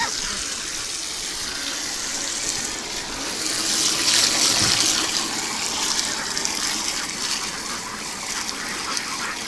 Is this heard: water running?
yes